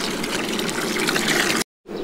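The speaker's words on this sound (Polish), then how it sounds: "Nalewamy do miski." Water gushes from a high-pressure tap into a bowl inside a camping trailer, a close, dense, hissing pour that runs steadily and then cuts off abruptly.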